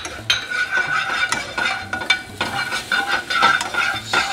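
Garlic sizzling in a hot pan while being stirred, a steady fry hiss punctuated by repeated scrapes and light clinks of the utensil against the pan, close and fairly loud.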